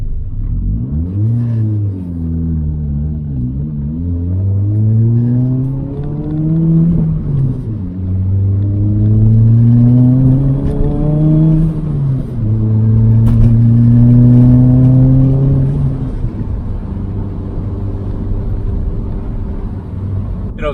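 A turbocharged Toyota Corolla with a swapped-in 6-speed manual cruises on the highway, its engine droning loudly and climbing in pitch through several gear pulls, each rise ending in a shift before settling into a steady cruise.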